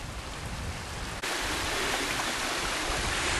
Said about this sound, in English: Look at this little series of waterfalls, fantastic.